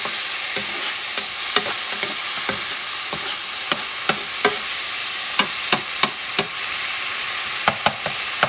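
Grated tomatoes cook in a pot with chickpeas for Puerto Rican garbanzos guisados, giving a steady close sizzle broken by a dozen or so sharp scraping stir strokes of a spoon against the pot.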